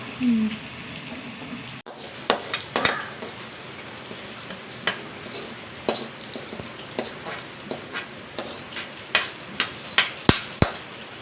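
Onions fry for mutton curry with a low, steady sizzle, punctuated by sharp metallic taps and scrapes from stirring that grow more frequent toward the end, heard close up.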